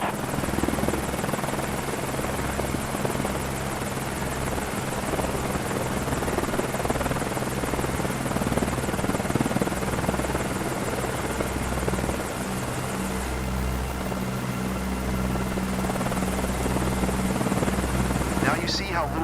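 A helicopter's engine and rotor thrum steadily with a low, pulsing drone and high whine in the video game Microsoft Flight Simulator 2024, while a voice talks over it.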